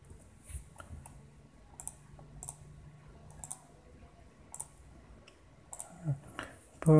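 Sparse clicks of keys on a computer keyboard while typing in Tamil with keyboard software, heard as scattered separate taps at close range over quiet room noise.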